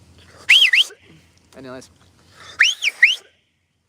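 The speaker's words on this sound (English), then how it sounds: "Whistle was bad." A person whistles two short sliding notes, pauses while someone speaks a single word, then whistles two more similar notes, close and loud.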